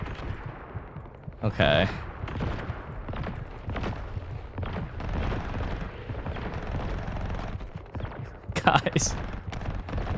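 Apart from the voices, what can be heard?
gunfire in The First Descendant video game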